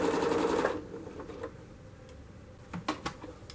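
An upholstery sewing machine runs a quarter-inch seam on a chair's T-cushion border in one fast whirring burst, then stops, followed by a few soft clicks and handling knocks.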